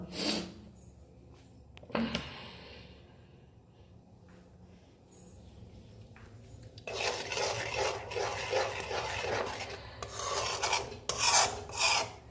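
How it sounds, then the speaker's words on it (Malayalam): Ginger curry being stirred in a pot over a lit stove, a loose, watery mix scraped and rubbed with a spoon; a faint early scrape, then a louder, continuous rasping stir through the second half. "അപ്പോൾ ഈ നല്ലോണം ഇളക്കി കൊടുക്കാം"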